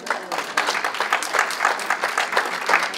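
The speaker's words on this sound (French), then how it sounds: "On peut applaudir le Seigneur?" A church congregation at a French-language worship service claps in a lively, steady round of applause that carries on throughout.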